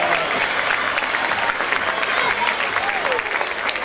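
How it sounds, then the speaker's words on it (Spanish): Steady applause fills the room throughout, a dense continuous clapping from a group, with a voice faintly audible underneath. "aplausos ahora, muy bien"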